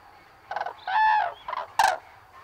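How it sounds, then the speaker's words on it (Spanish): Common crane calling in a short burst of loud, harmonic honking cries: a brief stuttered note, a longer sustained trumpet, then two more sharp calls, all close and clear over a quiet background. "Y la grulla, gruye."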